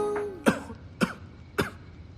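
A man, a prince shackled at night, gives three short, dry coughs spaced about half a second apart, quiet and close in a still room.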